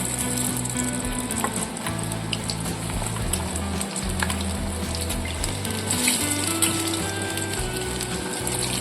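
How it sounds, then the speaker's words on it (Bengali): Potato pieces frying in oil for a Bengali dhokar dalna, a steady close sizzle and crackle running throughout with a low background hum and occasional clinks. "আর একটু তেল দিয়ে নিচ্ছি। এবার আলুগুলো একটু ভেজে নেব।"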